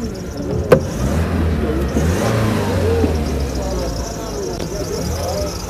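An Opel sedan engine, 1992 model, running on gas and petrol, revs up and settles back, a mid-pitched rumble close by, with a sharp knock early on and talk mixed in.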